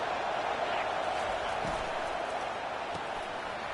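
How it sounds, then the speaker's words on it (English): A broad, steady roar of a large stadium crowd at a Clemson football game, loud and continuous, with a commentator's voice faintly mixed in. "This crowd bringing the energy and noise early."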